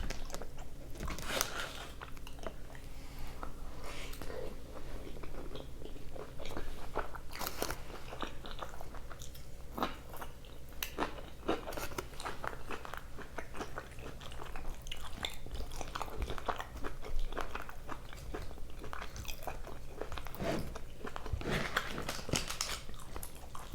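Close-up crunching and chewing of carne asada fries with cheese and sour cream, with soft bites and wet mastication continuing steadily, alone without talk.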